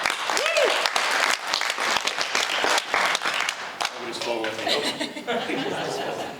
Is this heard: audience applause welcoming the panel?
yes